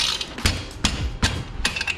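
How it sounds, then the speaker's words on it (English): A wrench works the rear axle nut on a Honda Grom motorcycle, producing four loud, sharp metallic clicks spaced about every 0.4 seconds, close and distinct, with light ratcheting noise between them. "So let's loosen up the axle."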